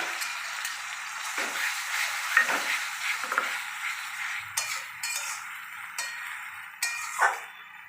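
Browned onions and a ground spice paste of garam masala fry in a pan for a Bengali country chicken curry, a soft sizzle broken by repeated stirring scrapes and light clinks of a spatula against the pan.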